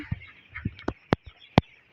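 Broiler chicks at a poultry farm chirp in a faint, steady chorus beneath several sharp, nearby knocks and thumps.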